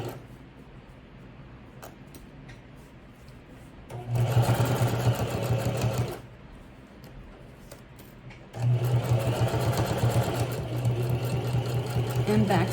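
A sewing machine stitches a toiletry or makeup box pouch in two loud, steady humming runs separated by a quieter pause, with a low motor drone throughout.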